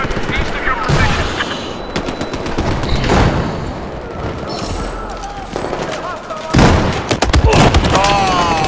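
Rapid bursts of machine gun fire in a war video game crackle and boom close up, repeated volleys with explosions between them, and voices talk over the gunfire.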